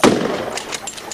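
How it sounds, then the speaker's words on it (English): A rifle volley cracks out over a coffin at an outdoor paramilitary funeral, as one sharp, loud report decays into a brief rolling echo. "three men in paramilitary dress and carrying rifles stepped forward from the crowd and fired several volleys of shots over the remains"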